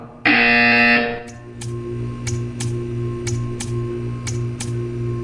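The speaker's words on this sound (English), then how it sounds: "When you hear the buzzer, stare at the art." A loud, harsh electronic buzzer from the video game Portal 2 blares for about a second, followed by a steady hum with a regular ticking beat.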